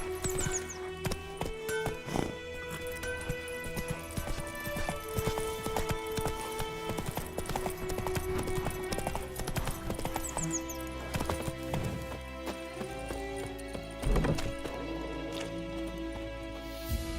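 Galloping horse hooves in The Witcher 3 video game, a steady rapid clip-clop running throughout over a dense layered game soundtrack, with an occasional neigh.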